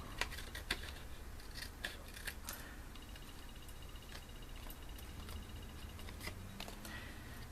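Scissors snip paper wings off a handmade scalloped card, giving a series of quiet, close crisp cuts at an uneven pace against a low background hiss.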